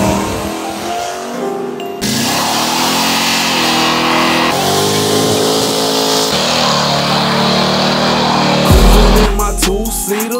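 A car fitted with a 350 transmission drives along with a loud, continuous engine drone, its pitch stepping up and dropping as the gears shift, heard from close by.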